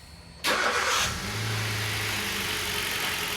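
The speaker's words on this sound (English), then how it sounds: "Now I'll let you hear the car." A Hyundai i car engine with P0011 and P0014 camshaft timing codes starts, rises in a short flare of revs, then drops to a steady, close idle with a low hum.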